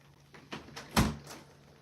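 A door at home is opened with a few quiet clunks and one louder knock of the latch, close by and with no talk.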